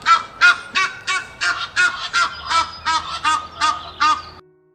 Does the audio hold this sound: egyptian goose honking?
yes